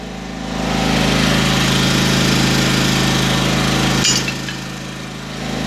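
A portable generator set up for welding on a small Brown Swiss farm runs steadily, a loud continuous engine drone with a low hum, dipping slightly near the end after a brief metallic clink.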